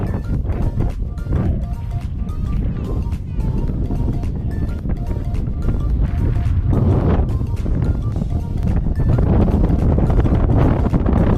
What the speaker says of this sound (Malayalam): മഴ ചെറുതായി ചാറുന്നുണ്ട്, നല്ല കാറ്റുണ്ട്